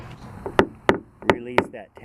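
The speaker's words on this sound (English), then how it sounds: "I'm going to give it a little tap on this edge" Light hammer taps on the edge of a BMW M3 body panel during glue pull dent repair, several sharp single knocks spaced unevenly and heard close and fairly clear.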